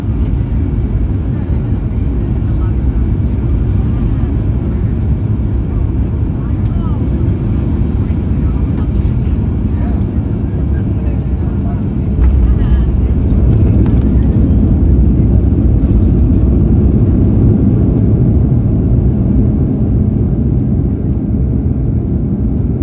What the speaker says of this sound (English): here we go for our landing on runway 5 left at Indianapolis International Airport